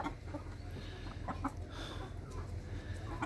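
Several chickens cluck steadily at close range, a continuous busy farmyard chatter with no talking.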